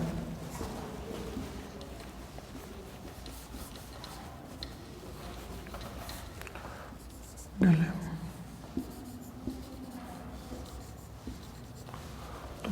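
Marker or chalk writes on a board while a beta decay equation is corrected, making steady scratchy strokes with a sharper knock near the end. A soft voice murmurs underneath.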